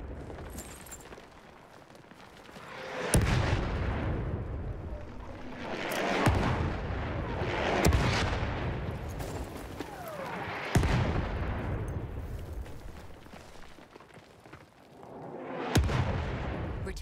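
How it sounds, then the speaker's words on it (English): An enemy artillery barrage in the video game Battlefield 1 pounds the battlefield: five or six loud, deep booming impacts spaced a few seconds apart, each followed by a long rumbling decay. "Wait for the enemy artillery barrage to stop firing."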